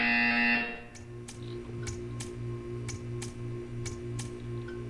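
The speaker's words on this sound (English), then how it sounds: "You will hear a buzzer." A loud electronic buzzer in the video game Portal 2 sounds briefly at the start, followed by a quiet hum and a series of regular ticking clicks.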